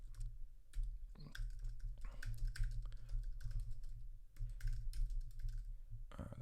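Steady typing on a computer keyboard while a technical blog post is written, quick irregular key clicks and clacks with brief pauses, close and fairly quiet against a low background hum.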